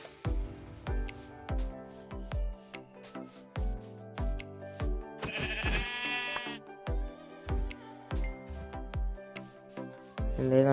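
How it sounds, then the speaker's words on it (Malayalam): Sheep bleat in the video game Minecraft, repeated short bleats against a steady stream of soft blocky game sounds, with no talking. "ഇവിടെ എവിടെയോ ആയിട്ട് ആടിൻ്റെ കരച്ചിലായിട്ടൊരു അതാ"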